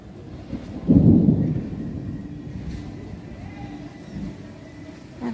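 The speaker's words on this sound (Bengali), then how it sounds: "এত তো মেঘ ডাকছে, এখন বৃষ্টি হবে কিনা সেটাই" Thunder rumbling before rain over a rooftop garden, a low roll that swells near the start and then fades into a long, soft, distant grumble.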